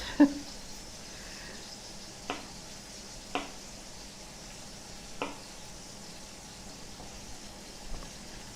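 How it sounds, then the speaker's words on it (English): A quiet, steady sizzle of chicken frying in a pan, with a few soft clinks of a utensil against the pan. "I'm hearing the chicken sizzling."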